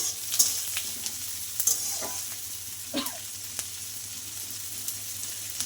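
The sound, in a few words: onion and garlic frying in pan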